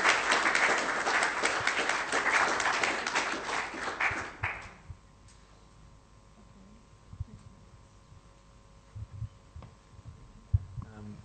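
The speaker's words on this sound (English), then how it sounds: "Let's all give them a round of applause" A church gathering gives event organizers a round of applause: dense, loud clapping from a crowd fills the first four seconds, then cuts off and leaves a quiet room with a low hum and scattered faint knocks.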